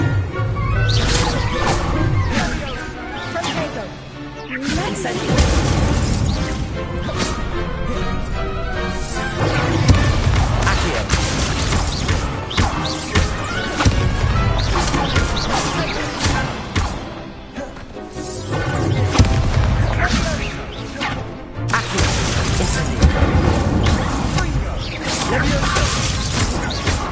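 Fire spells cast again and again in the video game Hogwarts Legacy, bursts of crackling flame and impact crashes layered over a dense, loud game soundtrack, with a voice speaking over it throughout.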